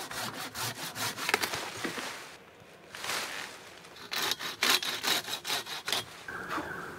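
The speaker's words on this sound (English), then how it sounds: "I've got a handsaw, I've got that big silky boy thing, so we can just chop the side of it" A handsaw cuts through a fallen tree blocking a muddy bush track, its close, steady rhythmic rasping strokes running for several seconds with one brief pause partway through before the sawing picks up again.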